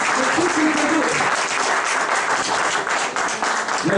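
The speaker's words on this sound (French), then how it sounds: "Acclamez pour le Seigneur." Church congregation applauding during a worship service, dense sustained clapping throughout, loud and close, with some voices mixed in.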